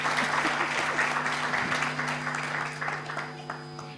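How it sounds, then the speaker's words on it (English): Audience applause for conference panelists, a steady sustained clapping from a crowd at a university mental health event, fairly even in loudness throughout. "Let's give them a better clap."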